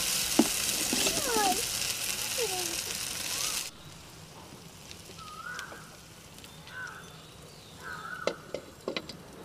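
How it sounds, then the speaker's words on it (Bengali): A rice, potato and vegetable pancake fries in a pan, a loud sizzle for the first few seconds that then drops to a faint, steady crackle, with a voice speaking briefly over it. "এখন এই সাইডটাও ভেজে নিব"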